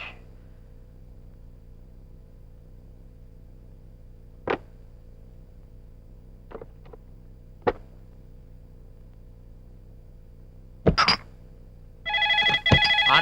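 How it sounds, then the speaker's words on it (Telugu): After a long, quiet stretch broken by a few sharp clicks, a phone's electronic ringtone starts abruptly at the very end, loud and close, with no voices. "ఫోన్ రా. ఎత్తు."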